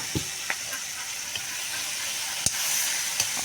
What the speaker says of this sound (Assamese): অকণমান ভাজি পিনে আলুখিনি দি দিলোঁ।